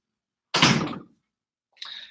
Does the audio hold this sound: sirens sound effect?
no